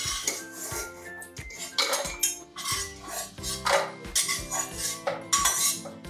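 Roasted semolina with cashews and almonds scraped out of a metal pan, heard as a busy run of close metallic clanks, scrapes and spoon knocks with no talking.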